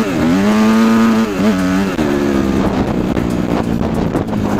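A 250 motorcycle accelerates hard, the engine note rising in pitch and then settling into a strong steady drone with wind rush, loud and close from the rider's position.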